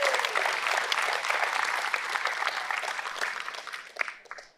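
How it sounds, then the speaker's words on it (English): Sustained applause from an audience, dense and steady, gradually thinning and fading out at the end. "Give them a big round of applause."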